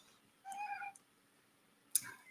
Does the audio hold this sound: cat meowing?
yes